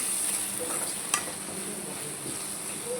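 Egg tomato curry is stirred in a pan over low heat, giving a faint, steady sizzle with soft scraping and one brief sharp clink.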